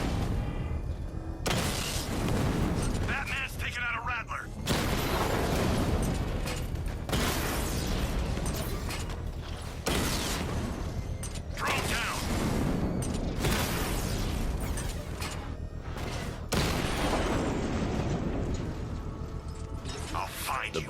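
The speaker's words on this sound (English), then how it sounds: "I can use the power winch to trigger a controlled explosion." Controlled bomb explosion in Batman: Arkham Knight, triggered with a power winch: a string of loud, close booming bursts and mechanical crashes repeating across the span, with game voices talking underneath.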